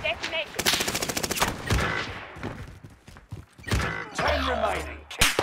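Gunfire in Call of Duty: Warzone, a loud close burst of rapid automatic shots followed by scattered single shots, mechanical clicks and clatter, with game sounds and a brief low hum near the end.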